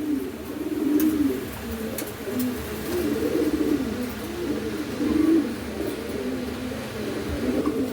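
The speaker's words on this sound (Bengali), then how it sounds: "এটা রানিং কবুতর।" Running pigeons coo in soft repeated low phrases close at hand, the calls rising and fading in a loose rhythm over a faint background hum.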